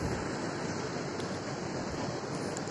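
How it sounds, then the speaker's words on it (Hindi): Waterfall at Patalpani in the forest, a constant broadband rush of falling water that holds steady and loud throughout with no break, and no talk over it. "ये देखो गाइस बहुत खतरनाक झरना बह रही है"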